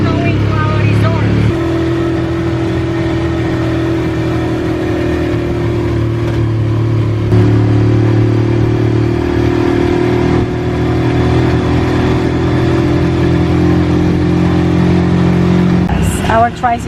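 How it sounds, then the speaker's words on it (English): The engine of a motorized tricycle taxi drones continuously and loudly during a ride on Siquijor island in the Philippines, a rough steady hum with slight shifts in pitch. "now we got our tricycle, and we are going to our resort"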